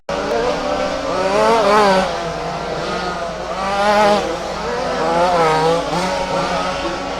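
Race cars in a rally championship roar down the straightaway, engines rising and falling in pitch as they pass in waves, loud and continuous.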